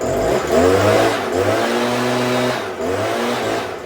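A Stihl chainsaw runs just after a small high-idle carburetor adjustment, its engine droning loud and close, the pitch rising and falling with slight revs and no voices.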